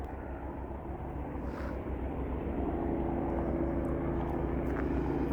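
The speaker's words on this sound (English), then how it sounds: "Oh, I can hear another plane coming behind me." Airplane passing overhead above a farm, a steady low engine drone that grows slightly louder over several seconds, heard at a distance with no talking.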